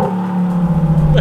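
A Lamborghini Huracán Performante or Porsche GT3 RS accelerating hard, a loud, close engine note holding steady then rising in pitch over a second, heard from inside the car.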